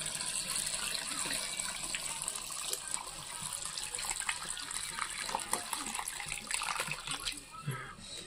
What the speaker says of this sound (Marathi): पण थोडंसं आंबट जास्तच टाकायचं आणि असं त्याच्यामध्ये पाणी टाकून घ्यायचं.